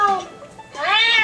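A cat meows in a single rising, drawn-out cry up close, preceded by a shorter mewing sound, loud and clear with no other sounds around it.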